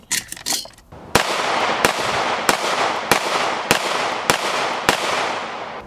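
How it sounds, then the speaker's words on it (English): A Ruger P85 9mm pistol firing Remington Government Police and Freedom Munitions full metal jacket rounds at a range: eight loud, close shots evenly spaced about half a second apart after some brief handling noise. "We're going to be shooting some Remington Government Police 9mm full metal jacket and some old Freedom munitions."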